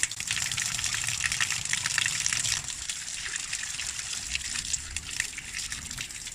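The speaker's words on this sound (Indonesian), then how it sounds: "Kita bersihkan dulu, baru nanti kita celup ya." Grape seedlings being rinsed under a running stream of water, a steady loud gush with splashing that continues throughout, close by and with no voices.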